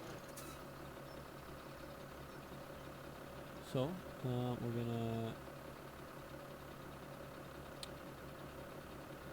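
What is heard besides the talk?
New Holland 8340 tractor engine running in Farming Simulator 2017 video game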